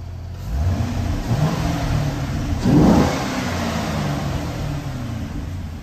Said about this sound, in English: Try to rev it up a little bit so you can get a sound of it on the camera